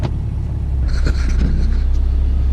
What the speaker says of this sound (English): Well, the truck moves forward.